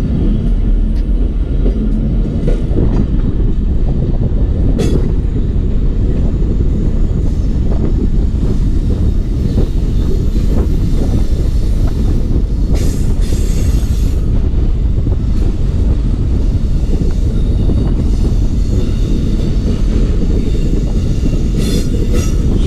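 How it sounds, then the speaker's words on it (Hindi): Pakistan Railways 349UP Chaman passenger train approaching Shelabagh station: loud, continuous rumble of wagons rolling past close by, with wheel clatter and occasional metallic squeals over the whole stretch. "शीलाबाग रेलवे स्टेशन पे अप्रोच कर रही है 349 अब चमन पैसेंजर।"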